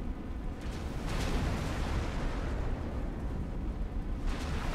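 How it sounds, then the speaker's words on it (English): A station module blows up in the space game X4 Foundations, a sustained, loud rumbling blast with crackling debris that rolls on without letting up, brief brighter bursts flaring near the start and end. "That was a big one. I don't know what module that was, but that was no small explosion."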